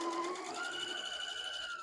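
A sewing machine stitches a seam in a quick, even whir of needle strokes, close and fairly quiet, running steadily without pause.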